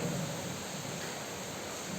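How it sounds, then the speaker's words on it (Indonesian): Rain pours outside a mosque as a steady, even hiss of falling water, with a low rumble that may be distant thunder. No one speaks. "Suasana di luar hujan"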